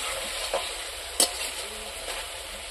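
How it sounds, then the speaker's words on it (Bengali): Goat meat is stir-fried in oil as kosha, giving a steady close sizzle with a couple of sharp spatula clacks and scrapes against the pan. "পাঠার মাংসটা আজকে কষা কষা করবো।"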